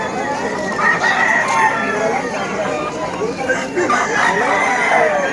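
Roosters crow repeatedly amid clucking poultry and a busy crowd of voices at a chicken-selling area of a pet market, close and loud, in a noisy bustling setting.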